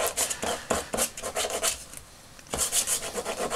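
Sanding small toy ammo packs for a vintage 12-inch Chewbacca bandolier replica, a close rasping rub in rhythmic back-and-forth strokes, pausing briefly before resuming, with no talking.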